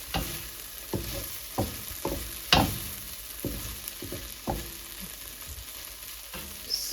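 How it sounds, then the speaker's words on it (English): Okra with chili flakes frying in an open pan on medium heat, a soft steady sizzle broken by repeated scrapes and taps as the pieces are gently turned, close and fairly quiet. "our okra continues to cook in the open pan on medium heat"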